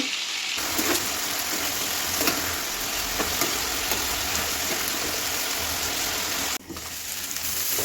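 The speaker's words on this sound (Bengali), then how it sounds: "সবগুলো মাছ একসাথে দিয়ে ভেজে নিতেছি" Several fish fry together in a pan of hot oil, a dense steady sizzle that stays close and loud throughout with a few faint clinks and no talk.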